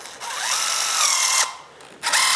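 A power drill drives a fastener into wood framing during bearing-wall layout, with a whining run that rises in pitch, a brief pause, then a short second burst, loud and close.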